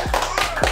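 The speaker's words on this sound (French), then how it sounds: "je pense qu'on peut encore les applaudir" A few sharp hand claps sound in quick succession, close and clear, with a brief murmur of voice around them.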